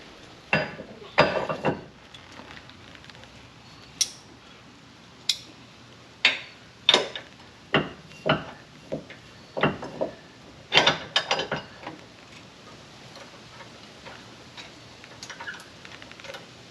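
Irregular metallic clunks and clinks, each sharp and separated by short pauses, as a trailer is hitched up outdoors.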